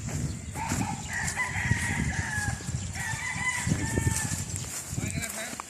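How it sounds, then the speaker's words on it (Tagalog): Several chickens cluck and a rooster crows nearby, with voices talking underneath throughout the farmyard noise. "Marami mga manok si Sir Dondon"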